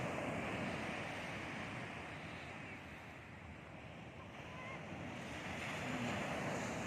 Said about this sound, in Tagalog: tignan natin yung alon